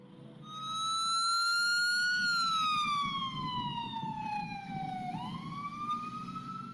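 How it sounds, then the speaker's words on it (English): A Tijuana Red Cross ambulance siren wails steadily, rushing to a shooting scene at night, its tone sliding slowly downward before rising again over a low traffic rumble. "Ambulances from Tijuana's Red Cross rush to the scene when a shooting occurs."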